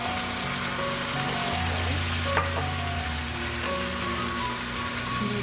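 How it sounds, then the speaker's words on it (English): Coconut milk goes into a seafood curry seasoned with curry powder, bringing a steady, loud sizzle and bubbling that continues throughout, with a brief splash partway through and no talking. "I'm going to put in half cup of coconut milk."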